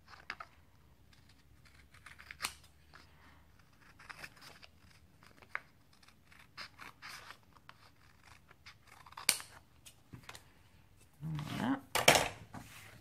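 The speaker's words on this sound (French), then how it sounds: "Je vais le faire avec des ciseaux." Scissors snip through paper in scattered, crisp cuts while trimming excess from a decorated planner, with quiet rustling between snips and a denser flurry of cutting and handling noise near the end.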